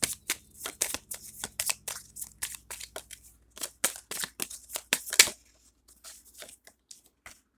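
Tarot-style cards are drawn and handled for a card reading, giving close, quick rustles, flicks and papery shuffling bursts in an irregular rhythm that thins to a few faint touches near the end.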